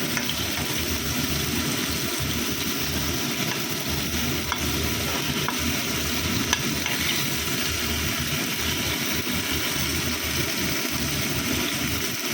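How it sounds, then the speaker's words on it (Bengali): Chicken kebab pieces cooking slowly in a pan, a long, even, dense sizzle close by with only faint occasional ticks, steady throughout and without any talking. "আর এখানে চিকেন কাবাবটা হচ্ছে আস্তে আস্তে।"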